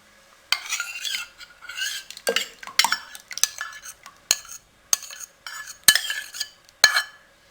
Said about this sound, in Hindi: अब इसमें हम अच्छे तरीके से चम्मच हिला देंगे ताकि ये अच्छे तरीके से इसमें मिक्स हो जाए।